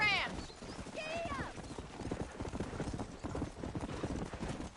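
Steady clip-clop of horse hooves at a trot in a Western ranch setting within Red Dead Redemption, continuous and close, with a brief whinny near the start and voices talking over the riding.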